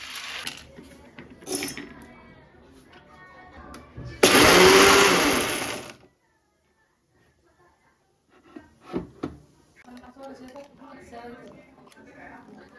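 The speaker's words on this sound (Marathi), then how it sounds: "आता थोड्याच वेळात ते मिक्सरमध्ये आम्ही काढून घेऊ आणि त्यांचा कूट करून घेऊ" A roughly 50-year-old electric mixer grinder crushes roasted peanuts into coarse powder for tilgul, a loud harsh whirring burst of about two seconds standing out between quieter kitchen handling noises and clatter.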